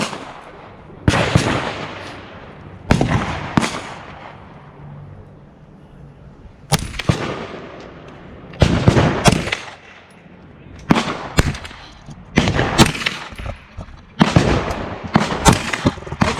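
AR-9 rifle fired at an outdoor shooting range on Long Island, roughly a dozen loud, sharp cracks in irregular pairs and short runs separated by pauses of a second or more.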